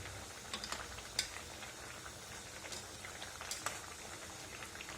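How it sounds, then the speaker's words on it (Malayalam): Ash gourd olan, a Kerala sadya curry, boils in a pot with soft scattered bubbling pops and faint crackles over a quiet, steady background, with no talking. "നന്നായിട്ട് തിളയ്ക്കുന്നുണ്ട്."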